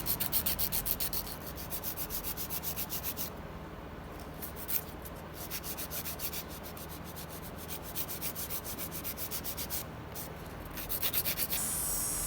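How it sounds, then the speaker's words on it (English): A steady high-pitched grinding whir with a scratchy texture from an electric nail drill filing underneath a fiberglass nail extension, running continuously up close with brief changes in pitch. "I'm just using the drill to go underneath the nail."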